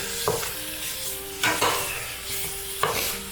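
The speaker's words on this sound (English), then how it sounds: "Try to give everything else a little stir here" Chili ingredients sizzling in a pan as they are stirred, a continuous soft frying hiss broken by three distinct scraping clatters of the utensil against the pan at regular intervals, with no talking.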